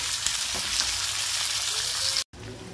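Ingredients sautéing in a pan for paneer butter masala give a steady, close frying sizzle with a few stirring scrapes, broken by a brief cut near the end.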